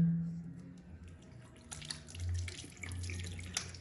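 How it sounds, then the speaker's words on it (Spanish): Water runs from a tap over soapy hands being rinsed, a close, soft splashing stream with small irregular splats and drips. "lavarlas con agua"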